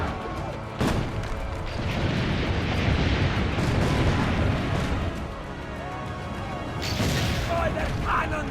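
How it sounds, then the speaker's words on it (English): Heavy cannon fire booms in the video game Assassin's Creed Brotherhood, one loud blast near the start and another near the end, with rumbling battle noise and voices in between. "Load the cannon."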